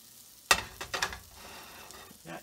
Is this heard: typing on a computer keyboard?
no